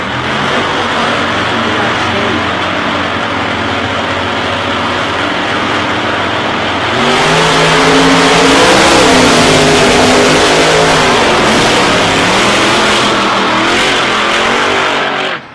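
Supercharged drag race cars launch off the line at a 2021 Supercharged Shootout, a loud sustained engine roar that swells at about seven seconds into higher rising revs, close and continuous to the end.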